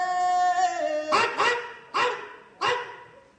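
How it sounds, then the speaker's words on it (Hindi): A dog gives four short, loud barks in quick succession, close by, during an outdoor street play about road safety; a sustained musical tone precedes the barks. "महाराज कुत्ता का भौंक रहा था"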